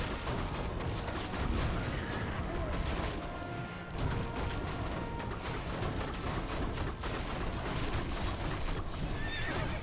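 Horse in a video game, a loud close whinny and neighing over continuous clip-clop hoofbeats and busy game effects, with brief dips and no talking.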